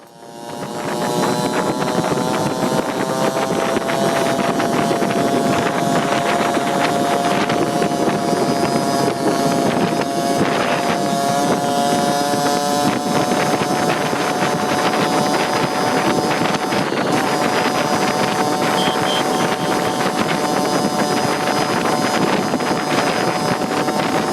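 A Yamaha QT50 moped with a Malossi kit rides at speed, its engine a steady, high-pitched buzz with loud wind rush over the microphone throughout.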